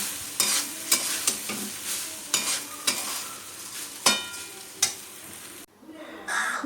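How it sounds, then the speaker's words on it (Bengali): Rice frying in a pan for pulao, stirred with a utensil that scrapes and clatters in a steady rhythm over a bright sizzle, close and fairly loud. A sharp pause comes near the end. "একটু ফ্রাই করে নিই চালটা"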